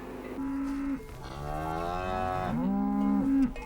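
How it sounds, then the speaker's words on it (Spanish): Cattle in a Pyrenees valley pasture during a summer transhumance herd of about a thousand cows, one cow giving long, loud, close moos, two drawn-out calls with a brief gap, no voices. "las vacas se van esparciendo cansinamente a sus anchas por la plana de la Coma"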